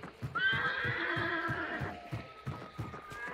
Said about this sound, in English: a horse immediately goes off